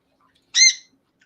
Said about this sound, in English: I'm handling a bird. I'm manhandling a bird.